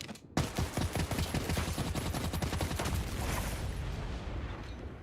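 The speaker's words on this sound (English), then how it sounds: "She just has a Gatling gun." A Gatling gun in the video game Silver Palace fires a long, rapid, continuous burst, loud and close, with dense rattling shots that smear into a roar toward the end.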